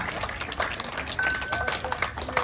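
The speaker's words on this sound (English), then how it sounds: "So let's give him a massive cheer, everybody" An audience at a safari park sea lion show cheering and clapping, a dense patter of applause under a presenter's voice, with occasional whistles.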